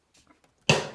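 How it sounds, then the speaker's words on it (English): One sharp click or rim-shot style hit with a crisp attack and a short decay, sounding up close after faint, scattered tapping noises. "a click or a rim shot that has a nice transient on it"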